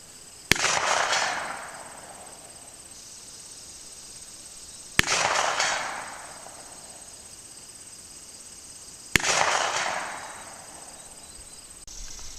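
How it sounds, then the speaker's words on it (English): Snub-nose revolver fired three times at a target 100 yards away outdoors, each sharp loud crack evenly spaced about four seconds apart and followed by a decaying echo, with insects buzzing steadily in the background. "I'm going to try 3 shots with this at 100 yards."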